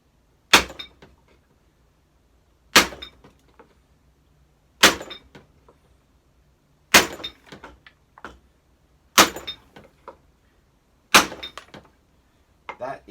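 A scooter headstock bearing is hammered into place through a block of wood, giving six sharp, evenly spaced blows about two seconds apart, close and loud with short ringing decays and nothing else in between.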